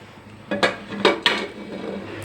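A few metallic clanks and scrapes of a pressure cooker lid being fitted onto the cooker, close and brief.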